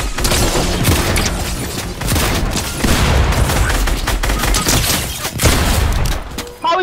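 Rapid gunfire in a Fortnite Chapter 4 Zero Build match, with dense bursts of loud shots and impacts running almost continuously over several seconds, while players talk over the action.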